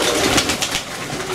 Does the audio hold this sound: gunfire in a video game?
no